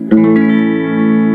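Clean-toned electric guitar played through an effects unit: a single struck chord rings out loud and close, sustaining smoothly with faint reverb and slowly fading, with no talk over it.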